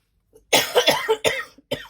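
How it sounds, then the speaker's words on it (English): Three harsh, close coughs in quick succession, the first a longer rattling fit, the last short and sharp. "I've got a real cough there."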